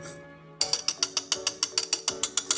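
A whisk beating melonpan dough in a bowl, making a fast, even series of about a dozen sharp clicking strokes close up after a brief quiet start, with no talking.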